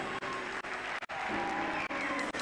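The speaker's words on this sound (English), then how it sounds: "Let's clap hands for Jesus." Church audience at a campus worship night clapping hands, a steady dense patter of applause with brief gaps, moderately distant.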